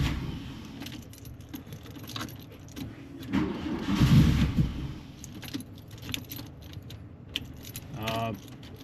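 Starter cranking a VW Golf Mk1 GTI engine that has sat unused, on a dying boost pack, with a clatter of keys, a louder churning burst that fails to catch, then fainter cranking.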